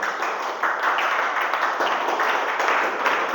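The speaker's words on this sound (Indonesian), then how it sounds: "beri tepuk tangan ya untuk Ulan." A classroom group claps together in steady, dense applause for a few seconds, moderately loud and close, with no talk over it.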